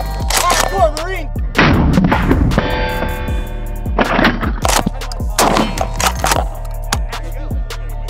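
MP40 submachine gun firing in bursts outdoors, loud sharp cracks with booming echoes repeating across the clip.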